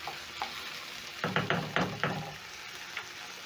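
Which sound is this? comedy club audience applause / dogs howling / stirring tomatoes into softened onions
stirring tomatoes into softened onions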